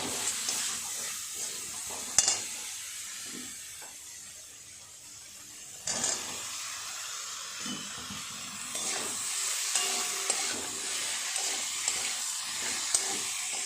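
Boiled taro stolons stirred into spice paste in a pan, a low hiss with intermittent scraping and occasional sharper knocks of a utensil against the pot.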